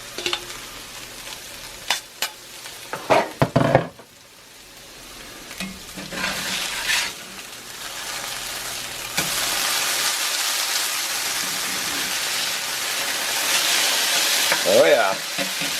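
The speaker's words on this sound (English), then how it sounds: "I'm going to flip these hash browns over." Hash browns fry in a cast iron pan with a steady, close sizzle. Scraping and knocking from the flip come in the first few seconds, and a broad crackling hiss follows and holds to the end.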